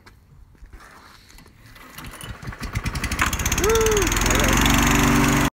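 A lawn mower engine is pull-started, sputtering into a rising clatter before it settles into a steady loud run, and a voice cheers over it.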